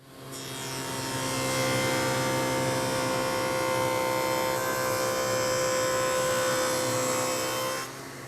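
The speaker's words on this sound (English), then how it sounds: "So a groove with the grain is usually the easiest test for a dado blade to pass." A dado blade stack whines steadily as it cuts a 1/4 inch groove with the grain in hardwood. The close, loud, sustained tone spins up, holds for about seven seconds, then drops off.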